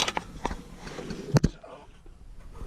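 Ratcheting clicks and metal knocks from a wrench tightening flex plate bolts on a 6.7 Cummins transmission install, mostly quiet apart from a couple of sharp close clanks.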